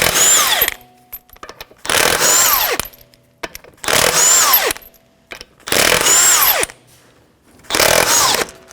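An impact tool on a 19mm socket removes the front wheel lug nuts of a 2011-2018 Volvo S60 in five loud, close bursts of whirring and hammering, each about a second long, separated by short silences.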